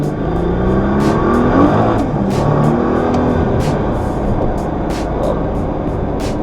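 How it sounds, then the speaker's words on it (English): A Nissan GT-R launches and accelerates hard, heard from inside as a loud, steady engine drone with rising pitch sweeps as it pulls through the gears, with no talking. "By far the fastest accelerating car I've ever owned."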